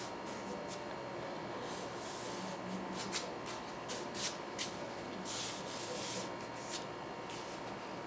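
A scrap piece of foam squeegees excess glue across the foam of a small 3D model airplane, producing soft, close, irregular rubbing and swishing strokes at low volume with no talking.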